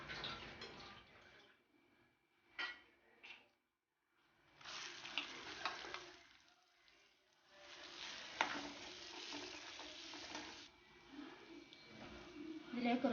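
Sliced onion frying in hot oil for prawn biriyani, a soft sizzling hiss that comes and goes in bursts with gentle stirring clatter and quiet gaps between.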